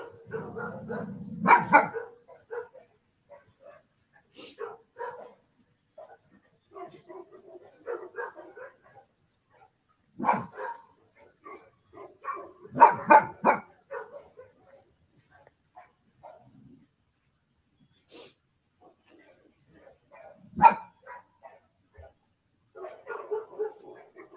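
A pet dog gives scattered barks and yips across a long stretch, some short bursts and some isolated woofs, moderately close with quiet gaps between them.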